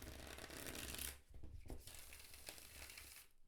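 Quiet papery rustling and riffling as a tarot deck is shuffled, soft and close, with no talking.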